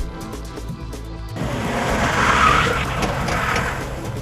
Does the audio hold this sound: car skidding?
yes